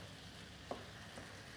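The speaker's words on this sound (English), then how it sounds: "So you just want to try to break up the mince and stir the ingredients around so that everything cooks evenly." Minced meat for tacos fries in a pan while being stirred, a soft, continuous sizzle with a couple of faint scraping knocks from the stirring, fairly quiet and close.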